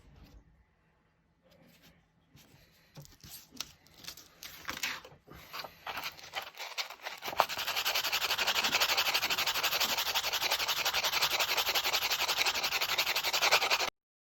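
Quiet scattered scraping and rubbing at first, then a steady, continuous gritty rasp of sandpaper worked back and forth over a wooden butter knife.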